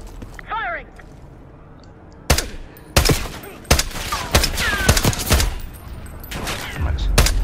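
Gunfire in the video game Call of Duty Black Ops 6, loud sharp bursts of shots in clusters with gaps between, mixed with a voice talking.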